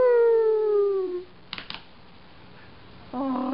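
A dog gives a long, loud, falling howl, then goes quiet apart from a couple of faint clicks, and starts a second howl near the end.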